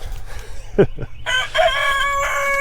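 A rooster crows loudly and close by on an off-grid homestead, preceded by a couple of short clucks from chickens.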